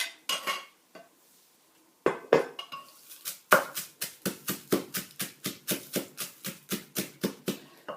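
A pestle pounds lemongrass, dried chili and fingerroot in a mortar, starting with a few scattered strikes, then settling into a steady run of about sixteen sharp, evenly spaced thuds.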